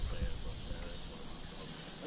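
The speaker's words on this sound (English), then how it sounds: "the crickets started chirping because they thought it was dark" Crickets chirp in a steady, dense trill during the darkness of the 2017 solar eclipse in the USA, a faint continuous insect drone heard alone.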